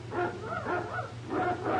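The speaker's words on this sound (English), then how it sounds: "Quiet those hounds" Hounds kept as watchdogs in a castle in a 1940 adventure serial bark and yip in overlapping bursts at a moderate distance, fairly faint, with no talk over them.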